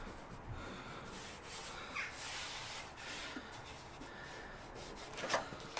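Sandpaper on a block is rubbed over body filler and primer on a Mazda MX5 Miata during paint prep. The rasping strokes are faint and steady, with no talk.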